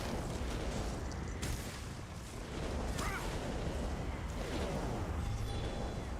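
Fire procs from the Way of Fire effect in the Elder Scrolls Online during PvP, with bursts and booms recurring over dense, noisy combat, fairly loud with a brief lull midway.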